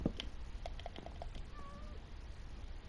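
A cat meows in PS4 Minecraft: one short, faint meow rises over a quiet game background. No one talks.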